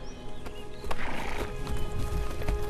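A horse neighs and whinnies faintly in the Lego The Hobbit video game on Xbox One, set against a steady wash of game background noise. The neigh grows slightly louder partway through.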